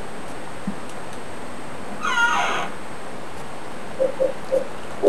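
A cat in the game Silent Hill 4 gives one drawn-out meow near the middle, fairly clear over a quiet hissing background, followed by a few short faint chirps toward the end.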